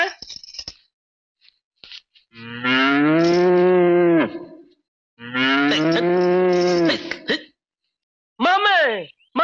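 Buffaloes moo close by in two long, loud bellows separated by a short pause, with a brief third call cut off at the end.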